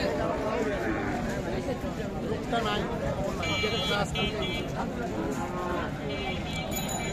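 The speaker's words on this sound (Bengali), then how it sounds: "এই গাভী আর এই যে বকলা বাচ্চা" A cow and her calf low and moo repeatedly close by at the Setabganj cattle market in Dinajpur, with people talking over the animal calls throughout.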